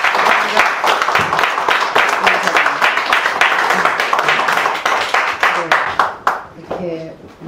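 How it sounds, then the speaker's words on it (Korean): Warm audience applause at a founding-meeting gathering, dense clapping that thins into scattered claps and fades out near the end, followed by a voice starting to speak. "여러분들 박수 뜨겁게 보내주시고요"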